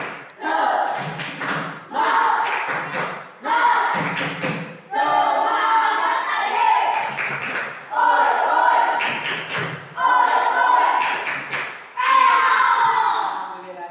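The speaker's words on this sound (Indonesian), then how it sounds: "Tepuk semangat." A school class performs a rhythmic spirit clap, loud patterned bursts of group clapping repeated over and over, with children chanting along between the beats.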